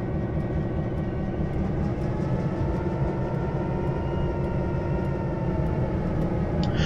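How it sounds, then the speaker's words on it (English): Locomotive in Train Simulator 2015 pushing a coupled boxcar during shunting, a steady low rumbling drone of engine and rolling stock that holds evenly throughout, with no talking. "Right, so we've coupled up to the boxcar, so let's push that one forward."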